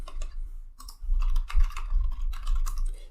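Short burst of typing on a computer keyboard, close and clear, with quick irregular key clicks and thumps grouped into a few brief runs.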